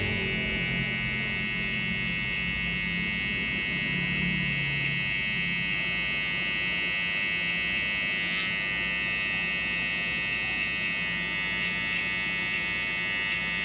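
Kemei KM-1973 electric hair trimmer running continuously while cutting hair, a steady close buzzing hum with a slight shift in tone partway through as it meets the hair.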